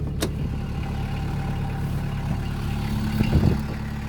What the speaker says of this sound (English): It's a proper diesel engine,